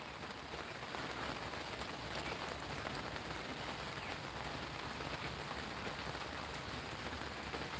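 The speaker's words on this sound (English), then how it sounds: "Nice sound of rain" Steady outdoor rain, a dense even patter of drops on surfaces that stays constant and fairly close throughout, with no voices.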